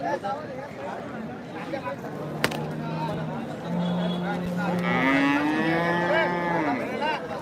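A calf tethered at a stall in the Chalisgaon cattle and bullock market lets out several drawn-out moos, rising and falling in pitch, over a background murmur of a busy outdoor crowd.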